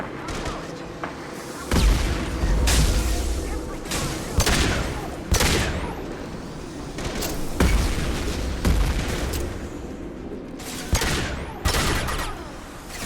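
Pistol shots ring out in Mass Effect 2 combat, around eight loud, sharp reports at irregular intervals, with low booming impacts and a busy battle backdrop between them.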